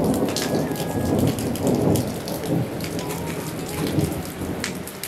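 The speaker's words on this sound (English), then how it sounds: "so day five, and as you can see, it's raining." Steady rain pours down outdoors during a soccer training session, a dense continuous hiss with rumbling, thunder-like low swells; no one speaks.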